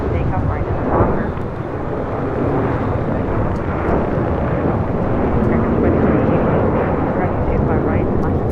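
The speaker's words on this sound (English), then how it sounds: "Alaska 737 now rolling down." An Alaska Airlines Boeing 737-900ER rolls for takeoff on the runway at LAX, a loud, broad jet roar heard from a distance that holds steady with wind-buffeted rumble throughout.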